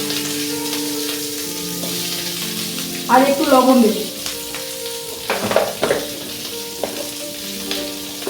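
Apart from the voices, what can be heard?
onion and capsicum frying in oil in a pan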